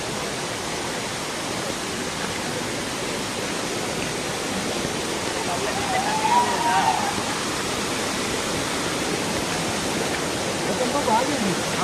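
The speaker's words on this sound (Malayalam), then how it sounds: "ഇതാണ് വെള്ളച്ചാട്ടം." A waterfall running with little water gives a steady, moderate hiss of falling water heard from nearby, with a voice speaking faintly over it.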